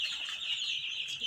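Brooding chicks on a poultry farm peep steadily and close by, a continuous high chirping with no other sounds.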